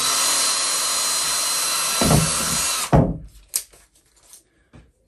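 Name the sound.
power drill with 7.5mm bit drilling in camper van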